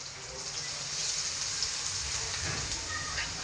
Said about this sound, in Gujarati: અને હવે આ પપૈયા નાખી દઈશું